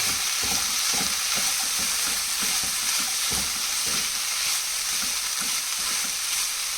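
Cooked green gram is stirred into banana flower frying in a pan, giving a loud, continuous sizzle with rhythmic scraping strokes of the spoon throughout.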